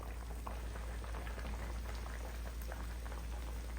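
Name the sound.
catfish simmering in a pot with chilies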